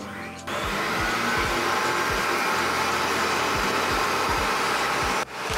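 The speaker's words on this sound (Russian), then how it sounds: "Ставим все это дело в миксер и начинаем взбивать на средних оборотах." A stand mixer whips eggs and sugar at medium speed with a steady, loud motor whir and rhythmic low beating throughout, starting suddenly and cutting off near the end. No one speaks.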